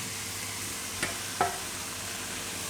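Mint leaves being stirred into pasta frying in a pan, with a steady sizzle throughout and two brief scraping stir strokes near the middle; no talking.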